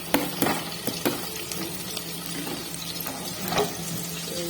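Oil sizzles and crackles softly in a pan on a stove as spices fry, with a few sharper taps and clinks from stirring over a steady hiss.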